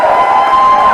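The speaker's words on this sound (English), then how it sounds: "Come on, y'all, give her a round of applause." A political rally crowd at Politico Palooza 2022 claps and cheers for a speaker's guest, a dense, steady wash of applause and shouts filling the whole moment without pause.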